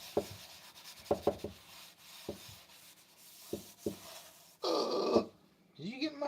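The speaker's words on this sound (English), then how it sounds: "So you might hear some scrubbing in the background." Dishes being scrubbed in a home kitchen, with intermittent close rubbing and scraping strokes and a louder rushing burst near the end; a person talks over part of it.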